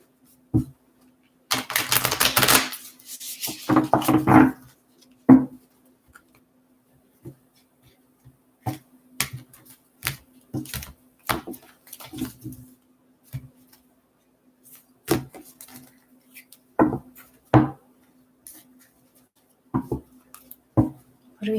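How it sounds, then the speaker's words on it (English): Tarot cards being shuffled by hand during a reading, with quick bursts of riffling flutter followed by scattered crisp taps and slaps of the deck, close and intermittent against an otherwise quiet room with a faint steady hum. "I feel like I need to shuffle more."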